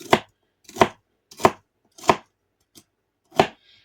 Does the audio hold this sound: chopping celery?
yes